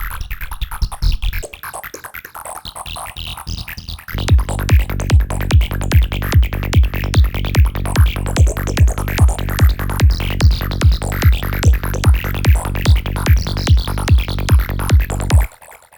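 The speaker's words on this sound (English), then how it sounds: "next preset is Fake River. Sounds like this." Sylenth1 synthesizer preset named Fake River, opening with a washy, gurgling noisy texture before a pulsing low bass pattern thumps in steady rapid repeats, loud and dense until it cuts off abruptly.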